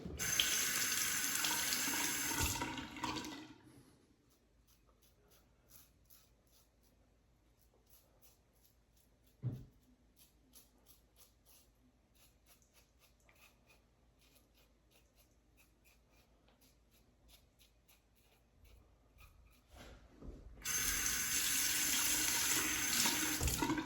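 Cold tap water running over a wide stick alum block at a sink, a loud steady rush at the start, then quiet faint rubbing for a long stretch, and the tap gushing strongly again at the end.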